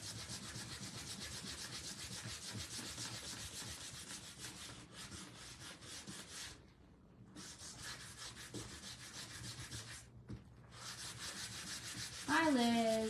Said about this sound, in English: I feel like I need a new sanding strip because this is not really